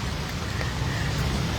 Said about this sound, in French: Il pleut, non?